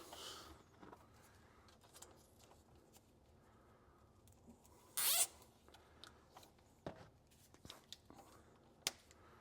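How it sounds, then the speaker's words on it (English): Zip ties ratchet tight around an audio cord in a 2023 Ford Bronco, giving quiet, scattered zipping clicks close by, with one louder burst in the middle and light handling noise around it. "Take a couple more zip ties and just make sure that this stays as one cord."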